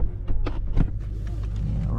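A 750hp BMW F10 M5 engine idles with a deep, steady rumble, heard close with a few brief knocks and shuffles over the low drone.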